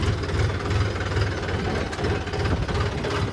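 A steady, rumbling tractor engine runs continuously at close range, its low chugging drone holding even throughout with no voices over it.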